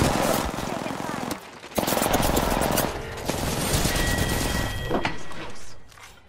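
Rapid video-game gunfire crackles in dense, loud bursts that pause briefly before resuming, with a player's voice speaking over the shooting.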